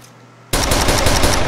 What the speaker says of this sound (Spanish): vamos a tratar de gastar 7 tiros. 7 cargadores, perdón, con la pistola